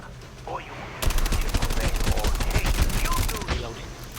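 Rapid automatic gunfire from an AK-47 in the Call of Duty Mobile zombies mode, a loud sustained burst of close shots lasting a few seconds, with game sounds before and after.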